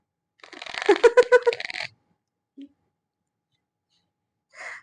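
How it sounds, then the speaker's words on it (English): Tarot cards are shuffled close by in a quick riffling burst of about a second and a half, followed by a short silence, a brief tap and another soft shuffle at the end. "I was just shuffling your cards"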